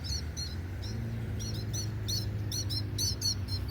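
Swallows call repeatedly around their nests, a string of bright, rapid chirps and twitters at close range over a low steady background rumble, with no talking.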